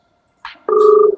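A telephone ringing, one clear electronic ring tone with a steady two-tone warble lasting about half a second, loud and close, with no talk over it.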